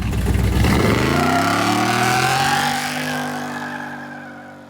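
A 1970 Chevelle SS V8 is held at three-quarter throttle during a burnout on new wheels and tires, roaring loud and close, then its pitch slides and the roar fades as the engine winds down.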